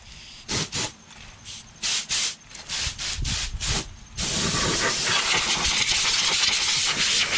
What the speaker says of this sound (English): I use this air compressor and blow it out